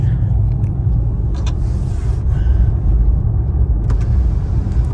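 Dodge Charger Hellcat driving on a road, its engine a steady low rumble that stays loud and close throughout, with no talk over it.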